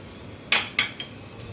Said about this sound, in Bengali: এটা প্রথমে আমি একটু চামচ দিয়ে মিশিয়ে দিচ্ছি